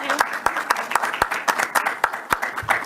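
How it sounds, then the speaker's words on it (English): A small group at an investor expert panel gives a warm round of applause, with distinct, evenly spaced claps standing out over a lighter patter and voices chattering underneath. "let's give them a warm round of applause."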